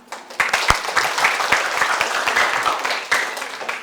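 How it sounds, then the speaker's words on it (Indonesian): A brief round of applause from a class during a teaching session on diabetes management, dense overlapping clapping that starts abruptly and holds steady for a few seconds with no talk over it. "Aplaus dong"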